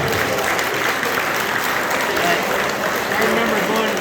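Sustained applause from a banquet audience honoring a high school wrestling team at a Hall of Fame induction dinner, steady dense clapping filling the room for the full stretch, with some voices mixed in.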